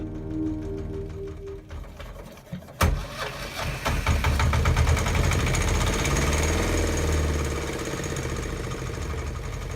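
The inboard engine of an 8-metre sailboat under restoration starts after a short rattle, then settles into a loud, steady, throbbing mechanical run with dense vibration.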